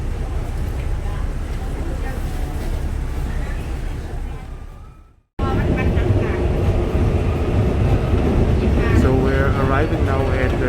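An SRT train running into Rangsit station in Bangkok, a steady loud rumble of the cars that cuts out briefly and then resumes with squeals and rattling.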